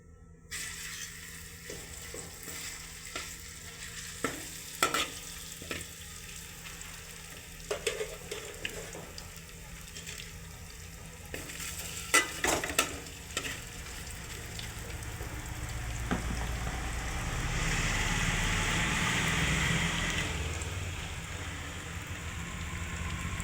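Spicy chicken pieces go into hot oil, starting with scattered clicks and light sizzling before the frying swells into a loud, continuous crackle that fills the latter half.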